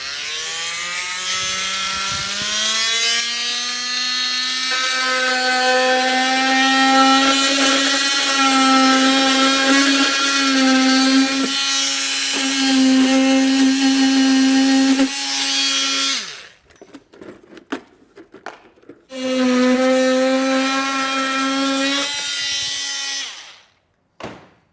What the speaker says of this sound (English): being somewhat thick plastic, I'm going to use a multi-tool.